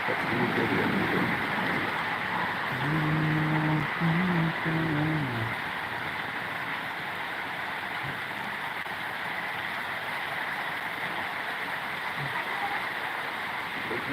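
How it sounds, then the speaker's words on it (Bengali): Heavy rain falls outside an open room window, a steady broad hiss running the whole time, with a brief tonal sound near the start. "এদিক দিয়েও দেখতে পাচ্ছেন কি সুন্দর বৃষ্টি হচ্ছে"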